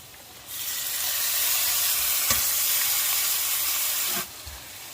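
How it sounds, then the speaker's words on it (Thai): Bamboo clams dropped into hot oil with garlic and chilli paste burst into a loud, steady sizzle that starts abruptly, holds with a few stirring knocks, then cuts back to a quieter hiss. "ทีนี้เราจะใส่ตัวหอยลงไปเลยค่ะ"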